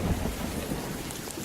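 Rain falls heavily, heard as a dense, continuous wash of noise with deep thundery rumble underneath, steady and close.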